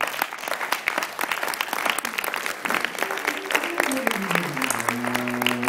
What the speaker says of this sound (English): if you like the work, applaud to the makers and also to the jury